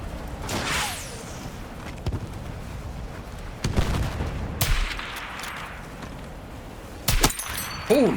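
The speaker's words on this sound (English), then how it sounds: "I sniped one over there." Sniper rifle shots and scattered gunfire in the Battlefield 6 RedSec battle royale mode, several sharp cracks spread across the span with distant booms and game effects between them, no talk.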